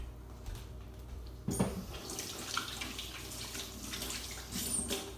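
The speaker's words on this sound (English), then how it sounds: "Wash my hands so they won't be so sticky." A sink tap runs while hands are washed of sticky strawberry cream cheese icebox cake mixture, a soft, fairly quiet stream with a splashy burst partway through and no speech.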